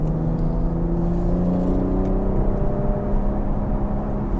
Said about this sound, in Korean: 배기음 너무 좋아요